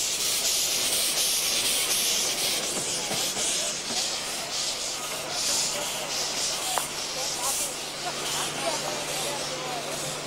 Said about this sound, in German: Dampfloks.